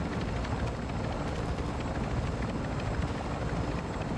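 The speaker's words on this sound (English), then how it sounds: "the helo is fueled up" A helicopter in the Call of Duty DMZ video game makes a steady, loud rotor and engine roar that holds evenly throughout, with no talking.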